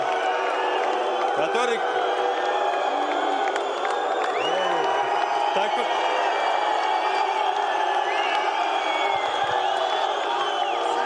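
A boxing or fight event crowd cheering and shouting loudly and continuously, with whoops rising from the audience while someone speaks over the noise.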